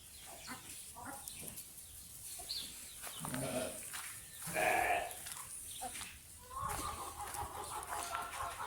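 Farmyard chickens and a rooster clucking and chattering in a lively village mix, with other livestock calls blending in, close and fairly busy throughout.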